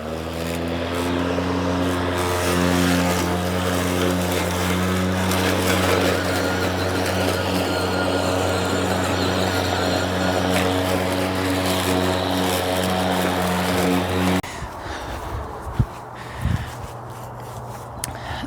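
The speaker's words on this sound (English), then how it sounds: "So I have to mow the grass because otherwise I just feel really gross being outside." A lawn mower cutting the grass in a backyard garden drones loud and close with a steady engine hum for most of the stretch. It then cuts off, leaving faint rustling and a few scattered knocks.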